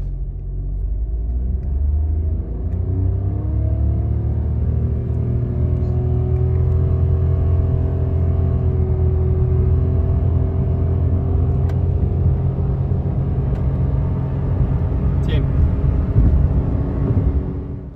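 A 2023 Mitsubishi Mirage G4 car accelerates hard from a standstill to 100 km/h. Its engine note climbs steadily through the run, loud and close, with a constant road rumble underneath.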